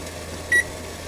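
A kitchen timer gives a single short electronic beep as it is set, clear over a steady low background hum.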